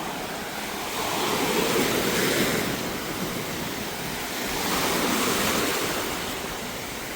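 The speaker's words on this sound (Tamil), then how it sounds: "காற்றும் வந்து பலமாக அடித்து கொண்டிருக்கு." Strong wind and waves at a seashore near Ilavalai, Jaffna, as a steady roar of surf and gusting wind that swells and eases in two broad surges, loud and close, with no voices.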